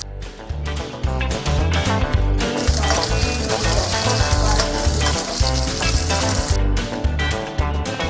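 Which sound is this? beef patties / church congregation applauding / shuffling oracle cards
beef patties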